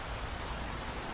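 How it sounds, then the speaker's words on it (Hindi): Heavy rain falls as a steady, dense hiss with no breaks, loud and close throughout, with nothing else heard. "बारिश बहुत तेज थी।"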